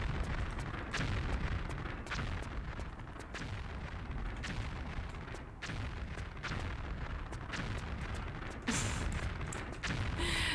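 Explosions from rigged vents in the video game Tomb Raider: Chronicles, a run of heavy booming blasts going off about once a second over a dense rumbling background, with a sharper burst near the end.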